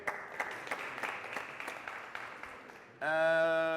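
A studio audience at a high-school quiz show claps for a contestant, a dense patter of hands lasting about three seconds before a bright, sustained electronic chime or jingle abruptly takes over.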